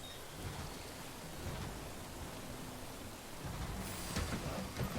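Timefall rain and thunder from the video game Death Stranding form a steady wash of rainfall, with low thunder rumbling beneath it. It stays soft and continuous, with no talking.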